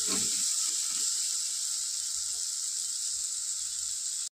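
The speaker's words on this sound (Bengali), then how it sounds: "পরিমাণ মতো হলুদ গুঁড়ো দিয়ে দেবো। দিয়ে একটুখানি 30 সেকেন্ড মতো নেড়ে চেড়ে নেব।" Turmeric powder being stirred into hot oil in a pan for a tomato and coriander dal: a steady, bright hiss of sizzling oil, with a few soft stirring scrapes near the start.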